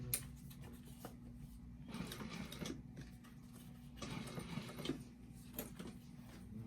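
A domestic sewing machine stitches and turns along a bag seam in short bursts of mechanical whirring, pausing between runs, heard up close at a fairly quiet level with no talking.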